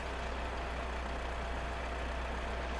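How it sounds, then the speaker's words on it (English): Heavy truck engines idle in Euro Truck Simulator 2 multiplayer, a steady low diesel rumble with broadband noise held at a constant level, with no voices over it. "Oh man, those engines are horrendous. What an awful noise."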